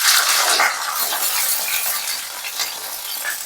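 Garlic, ginger and green chili sauté in hot coconut oil, a steady bright sizzle running close and loud throughout, with occasional stirring scrapes in the pan.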